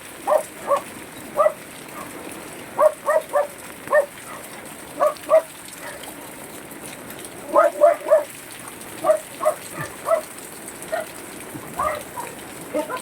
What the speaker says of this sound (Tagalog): Isang buhos pa na malakas ang ulan.